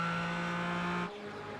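A Porsche Cayman race car in a sim racing league game, engine droning loud and steady with a strong harmonic whine, then abruptly dropping in pitch and level as the driver lifts off mid-corner.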